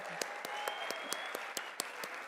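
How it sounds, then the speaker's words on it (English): An audience at a national leadership luncheon and plenary applauds with brisk, continuous clapping, crisp individual claps standing out above a dense wash of hands, heard from within the crowd. "Let's give them a big, big round of applause."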